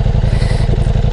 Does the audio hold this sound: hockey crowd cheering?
no